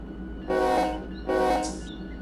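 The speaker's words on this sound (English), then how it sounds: "So let's move forward now with this train." A freight train in the Run 8 Train Simulator game sounds two loud, sustained horn blasts in quick succession over a low, steady rumble of the moving locomotive.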